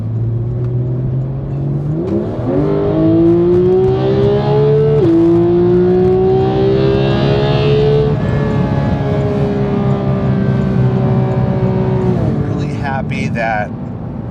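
A Porsche GT3 cruises on a highway, its engine droning steadily and rising through gear changes with a whirring tone, close and continuous for the whole stretch.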